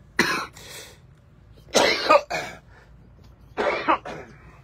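A person coughs three times during a live stream, each a short harsh burst of two or three hacks, close to the microphone with quiet pauses between.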